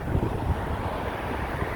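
Cold wind gusting outdoors in Saskatoon, Saskatchewan, Canada, a steady low buffeting rumble across the microphone with no clear pauses.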